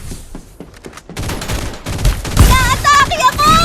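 Rapid automatic gunfire in the battle royale game Farlight 84, loud bursts and fusillades with shots in quick succession, continuing under game sound effects and electronic tones toward the end, with some speech mixed in.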